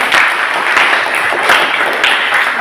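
A classroom full of students applauding steadily, dense overlapping claps at a fairly loud level with no talking over them.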